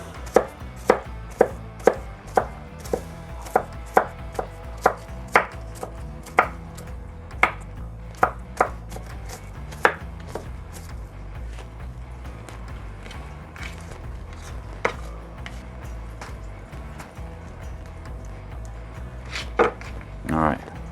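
A knife chops onion finer on a cutting board, a run of sharp, rapid knocks that slows into sparser strikes, close and clear over faint room noise.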